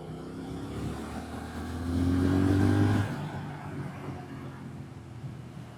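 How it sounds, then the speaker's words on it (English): A Triumph Speed Twin 1200 motorcycle engine hums steadily, swelling into a louder rev for about a second before settling back to a smooth running drone. "Listen to that engine just sing."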